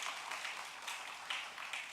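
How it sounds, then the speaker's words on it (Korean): A congregation at a Wednesday church worship service applauds the worship team with soft, steady clapping that sounds distant and fairly quiet. "큰 박수 한번 하도록 하겠습니다"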